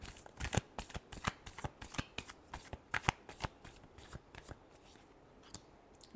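Tarot cards being shuffled by hand, a close, rapid series of crisp riffling flicks and slaps with uneven rhythm, fairly quiet, with no talk over it.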